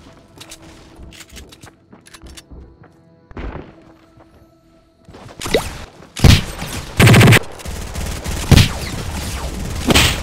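Video game shootout gunfire: scattered quiet shots and clicks give way to several loud, close bursts of rapid automatic fire in the second half, with sharp single booms between them.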